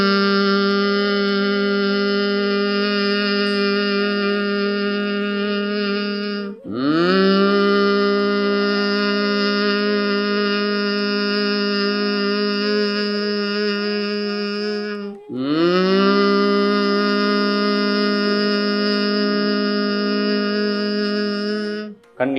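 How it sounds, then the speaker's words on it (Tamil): A single voice holds a long, loud, steady 'hmm' hum during yoga practice, sounded three times with brief breaths between, close and alone. "இம் சத்தம்"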